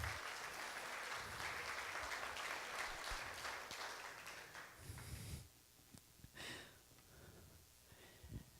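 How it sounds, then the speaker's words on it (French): An audience at a French-language missionary morning event applauds a guest invited onto the stage, with dense clapping filling the first five seconds before it thins out into scattered sounds and quieter room noise. "on peut l'applaudir parce qu'on est une émission quand même"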